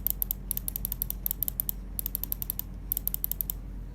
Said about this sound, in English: You can tell the old S2 clicks are much lighter because of how much higher pitched they are